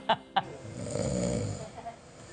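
A person snoring with a few slow, rough breaths in a quiet room, preceded by two short sharp sounds, moderately close and fairly faint.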